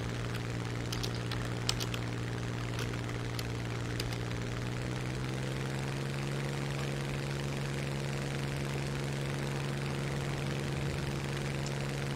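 A PBY flying boat's propeller engines in War Thunder pass overhead as a steady, low, droning hum that continues evenly throughout, with faint background clicks and no talking.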